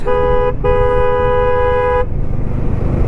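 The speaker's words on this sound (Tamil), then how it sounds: "நம்ம ஆர்ன் அடிச்சே ஆகணும்" A motorbike horn on a mountain road between Kodaikanal and Poombarai gives two loud, steady honks, a short one and then a longer blast of about a second and a half, over constant engine and wind rumble.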